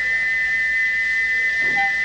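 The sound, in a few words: steam locomotive whistle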